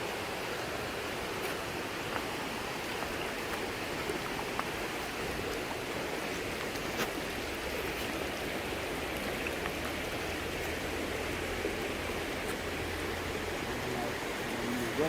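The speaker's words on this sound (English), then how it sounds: "Running water always good." Running water at an ancestral bathing place in West Africa, a continuous rushing wash like a stream or small falls, steady and close, with a low hum faintly underneath.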